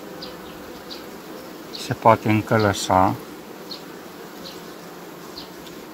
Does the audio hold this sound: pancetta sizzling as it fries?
no